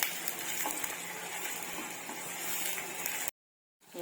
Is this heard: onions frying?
yes